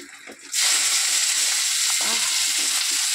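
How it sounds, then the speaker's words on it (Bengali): Lote fish (Bombay duck) frying in hot oil bursts into a loud, dense sizzle after a brief quieter moment, then keeps spitting and crackling steadily up close. "প্রচুর তেল ছিটকানো গায়ে, দেখো বন্ধু তেল ছিটকে কি হলো।"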